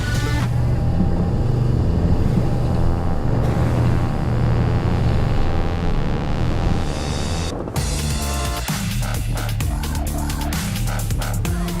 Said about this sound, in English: These 200 horsepower Suzuki engines must have good grit because as the speed increases